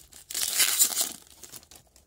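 A 2017 Canadian Tire hockey card pack's foil wrapper is torn open close up, a brief bright crinkling rip followed by faint rustling.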